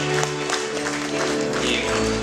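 Guests at a church wedding gathering applaud in a continuous, moderately loud wash of clapping, with a sustained musical drone running underneath.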